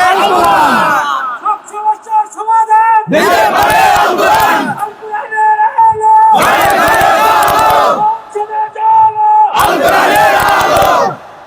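Large crowd at a Bangladeshi political rally chanting a slogan in loud unison bursts, alternating with a leader's amplified call lines in a regular call-and-response rhythm.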